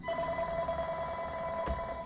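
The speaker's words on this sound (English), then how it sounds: "I heard the phone ringing" An indoor telephone rings with a steady electronic tone behind ongoing window-tinting work on a Chevy Malibu, moderately loud against a low background hum, with a brief bump of handling noise near the end.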